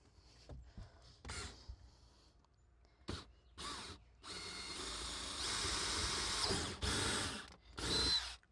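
Power drill whirring in several bursts of varying length, drilling holes in a metal plate on a 1989 bass boat, with quiet pauses between them, close by.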